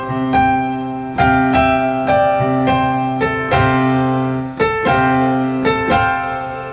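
Guitar playing the opening phrase of a song, a clear sequence of picked notes and chords struck in a steady, unhurried rhythm, close and bright, with each attack ringing out before the next.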